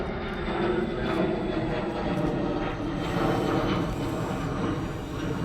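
An E-flite F4U Corsair radio-controlled model airplane coming in to land, its electric motor a steady moderate drone with wind noise throughout, no voices.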